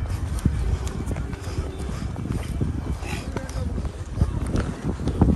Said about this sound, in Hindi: मैं और आयान बैठ चुके हैं घोड़े पे।